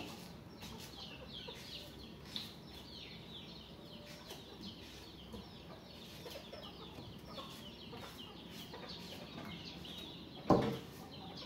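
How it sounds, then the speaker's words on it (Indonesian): Chickens in a coop cluck steadily in the background, a continuous low chorus of farmyard fowl, ending with a sharp thump near the end. "Ayam udah minta dikeluarkan dari kandang, sabarlah."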